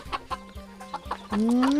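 A small, short-legged hen clucks while laying an egg: a run of sharp, evenly spaced clucks, then a longer rising drawn-out call, close and loud with no talk.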